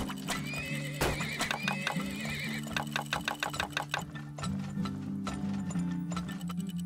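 Horses neigh and whinny with clip-clopping hooves in the oil-drilling video game Turmoil, set over a steady mechanical hum and a run of quick rhythmic ticks, with no voices.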